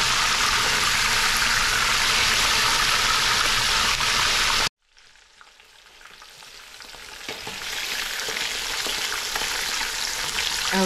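Fish fries halfway in hot oil for Senegalese thieboudienne, giving a loud, close, steady sizzle that cuts off abruptly, then builds back gradually to a full crackle.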